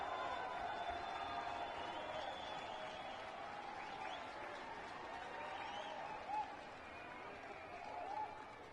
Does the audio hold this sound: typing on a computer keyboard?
no